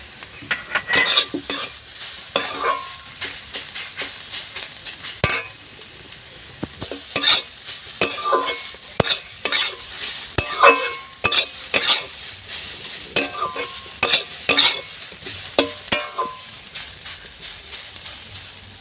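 Grated beetroot goes into a frying pan with grated carrot and is stirred, bursts of scraping and clattering from the utensil over a soft sizzle, repeating in irregular strokes close by, with no talking.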